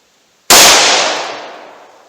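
A single sharp, very loud .327 Magnum shot fired with Speer Gold Dot ammunition, sounding close and followed by a long fading ring.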